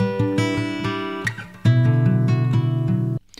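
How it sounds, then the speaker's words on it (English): Plucked acoustic guitar notes and strummed chords ring out close and clear with sustained harmonics, a brief pause of scratchy noise midway, then a fuller chord ringing before it cuts off abruptly. "here's a recording of my acoustic guitar."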